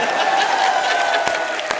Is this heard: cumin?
no